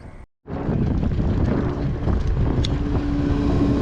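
A boat's outboard engine running steadily after being lowered, a continuous close drone mixed with wind buffeting on the microphone, following a brief moment of silence at the start.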